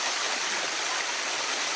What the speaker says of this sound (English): Washing away the mud and sweat in the cold waterfall pool is critical for hygiene and morale.